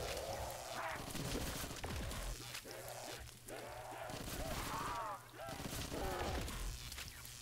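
Call of Duty Zombies gunfire on the custom Cargo map: rapid bursts of automatic shots and booms rattle on and off, fairly loud, under someone talking throughout.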